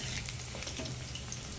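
Boondi frying in hot oil for a sweet boondi recipe, a steady dense sizzle with bubbling crackle, close and continuous with no talking.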